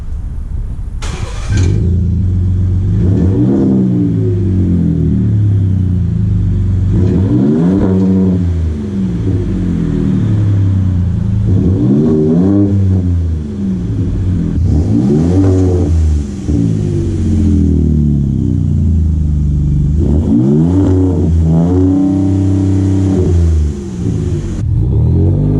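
A 2019 Ford Raptor fitted with Magnaflow MF Series mufflers revs loudly up close. About six rising-and-falling throttle blips sit over a deep, rumbling idle, with no talking.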